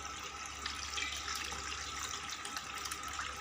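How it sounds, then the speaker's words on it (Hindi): Water drains steadily out of pickle ingredients held in a container, a continuous soft trickling and splashing at low level with no voices. "ये देखें कितना पानी निकल रहा है"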